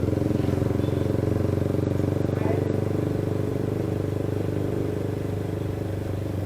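Motorcycles run along a town street near a market, with a steady loud engine drone and some clatter going on throughout, close by, with no clear single pass standing out.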